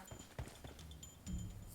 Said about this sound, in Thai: มีเสียงเท้าหน้าเรา